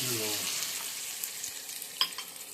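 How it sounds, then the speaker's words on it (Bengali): Water is poured into a pan of garlic fried until reddish, setting off a loud, steady sizzle with a few sharp crackles near the end. "রসুনের কচুগুলো আমার লাল লাল তো ভাজা হয়ে গেছে আমি এবার জল দিয়ে দিচ্ছিলাম"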